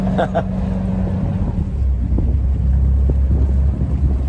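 A Rival 41 sailboat's engine drones steadily at low pitch, close and fairly loud, with wind buffeting the microphone throughout.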